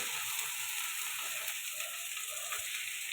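Tomatoes hiss in a hot frying pan for a fish and potato curry, a steady, close, even sizzle with faint bubbling and an occasional small clink, and no one talking.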